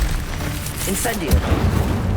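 A fire spell cast in Hogwarts Legacy bursts out as a loud whooshing boom with crackling rumble, set against a dense mix of combat effects, with a voice speaking over it.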